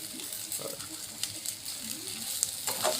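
Stuffed okra cooks in a pan with a quiet, steady sizzle and a few faint crackles and ticks.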